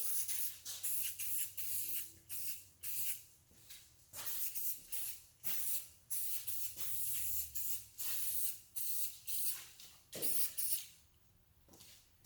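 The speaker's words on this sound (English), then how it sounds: "So I'm going to spray this about how I spray automotive paint" Repeated bursts of aerosol spray paint hiss on Corvette fuel rail covers, short and long passes separated by brief pauses, close and steady.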